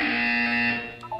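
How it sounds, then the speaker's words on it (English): A loud, harsh electronic buzzer from the video game Portal 2 blares as a single sustained tone, then cuts off into brief quieter game sounds. "When you hear the buzzer, look down at the floor."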